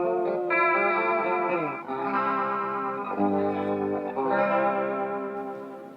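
An electric guitar runs through an effects pedal that blends pitch vibrato and chorus, a continuous, shimmering, wavering chord passage with sustained, warbling tones and no talking.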